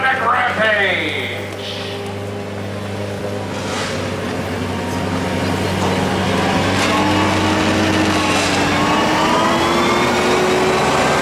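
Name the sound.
1200 lb modified lawn tractor engines racing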